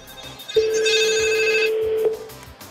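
A telephone rings once in a French radio studio, a single sustained electronic tone lasting about one and a half seconds, loud and close, with faint background hum.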